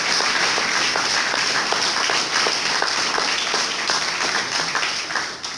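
A church congregation claps for a sustained stretch, dense overlapping hand claps forming a steady, fairly loud wash of applause with no talking over it.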